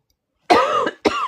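Two sharp, close coughs from one person, separated by a short pause, after a moment of silence.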